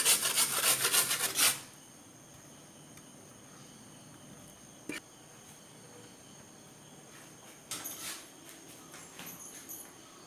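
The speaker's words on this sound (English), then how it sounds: "My paneer was kept in the deep freeze. That's why it's giving a nice sound." Frozen paneer, or cottage cheese, rasps against a grater in a brief close burst of scraping strokes. Quiet stretches with faint clicks follow, then a second short run of grating.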